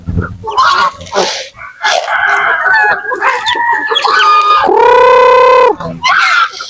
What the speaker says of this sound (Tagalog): Marami pa yung manok dito mga idol.